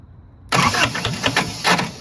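A diesel-swapped Triumph Spitfire cranks and fires at half a second, then runs rough and clanky with loud uneven knocking pulses, close by and alone.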